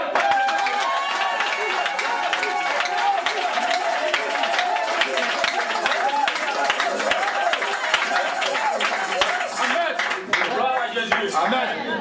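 A worship crowd cheers and claps for Babo, a steady dense roar of voices and rhythmic hand claps that persists throughout, loud and close, with talking mixed in.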